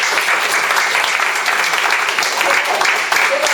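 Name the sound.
audience applause at a lecture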